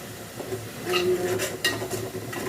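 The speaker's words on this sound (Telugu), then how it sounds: "ఉల్లిపాయ పచ్చిమిరపకాయ అల్లం వెల్లుల్లి పేస్ట్ చేసేసి కరివేపాకు వేసేసి మామూలుగానే ఇలాగ వేయించుకోవాలండి" Onion, green chilli, ginger garlic paste and curry leaves frying in a pan, a soft steady sizzle with a spoon scraping and stirring against the metal, close up.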